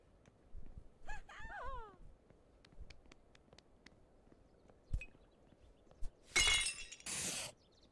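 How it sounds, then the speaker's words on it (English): Glass breaking in Untitled Goose Game, a bright shattering crash near the end after scattered clinks, small tonal game sounds and a brief laugh-like voice. "I broke the glass."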